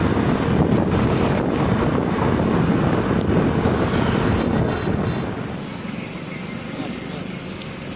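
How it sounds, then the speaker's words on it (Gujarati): Strong wind roars across the microphone on a road during a trip to a temple, a dense continuous rumble and hiss that stays loud for the whole stretch and eases slightly near the end. "પવન બહુ જ છે"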